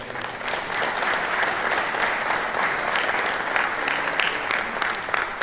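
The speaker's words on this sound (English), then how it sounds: "Let's give them a big round of applause." A crowd at a Philadelphia press event revealing plans for America's 250th birthday celebration claps steadily, a lively, even round of applause with scattered sharper claps that holds throughout.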